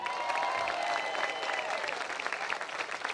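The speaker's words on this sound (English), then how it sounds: "Can y'all clap it up for them?" A large outdoor crowd at a statue unveiling applauds steadily for several seconds, a dense continuous wash of clapping with scattered cheers, fairly distant and without speech over it.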